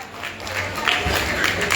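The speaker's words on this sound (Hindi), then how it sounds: "एक बार जोरदार तालियां बजाएं नवनीत गंभीर मैम के लिए।" Applause rolls on from an audience at a women's award ceremony, steady clapping of moderate loudness that holds for the whole short stretch.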